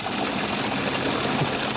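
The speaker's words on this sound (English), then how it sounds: "as you can see here, the pump going." A camper van's fresh water pump runs with a steady, dense mechanical whir and buzzing vibration, close and loud, with no pause and no voices.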